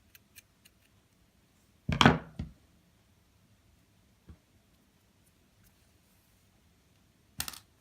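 Scissors snip off the end of sewing thread while making a glove monster: one short crisp cut stands out amid faint small clicks and handling taps in a quiet room.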